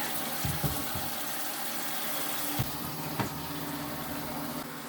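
Tap water pours steadily into a portable washing machine tub, a continuous close hissing rush with a few small splashes and knocks, no voices.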